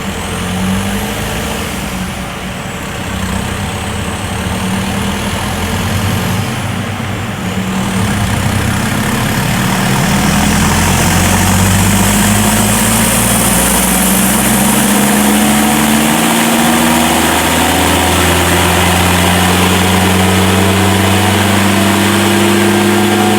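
A turbocharged Mahindra Roxor on a dyno, with its wastegate boost raised toward 15 psi, revs up in rising, falling sweeps that build to a loud, sustained high-rpm drone, recorded close and without talk.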